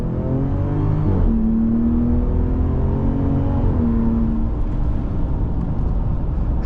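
The engine of a 2026 Ram 1500 RHO truck accelerates from inside the cab, its drone rising in pitch through gear changes, with a steady road and wind rumble beneath.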